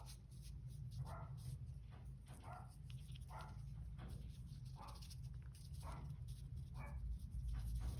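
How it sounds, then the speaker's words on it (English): A dog barks repeatedly at a distance, muffled and faint, over a low steady background hum. "If you can hear that barking, it's my dog."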